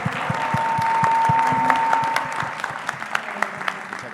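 A panel audience applauds at the close of a talk on the start of the video game industry in Colombia, sustained clapping that fades into a few scattered claps, with a steady tone underneath.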